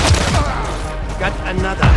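Dragunov rifle shots ring out during a Call of Duty Modern Warfare 3 match on the Shoothouse map, loud booming reports layered over dense game noise and brief voice callouts.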